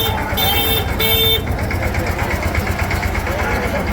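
A tractor hauling prasad at the Ashadhi Bij fair in Parabdham chugs with a steady mid-pitched engine drone, while crowd voices murmur nearby.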